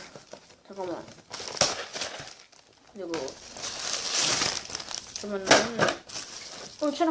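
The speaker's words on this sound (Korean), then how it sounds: "네, 이쪽 뜯어볼게요" Tearing open the plastic and paper packaging of a Wang Ttukkeong instant noodle cup, bursts of crinkling and ripping interleaved with a person talking and murmuring close by.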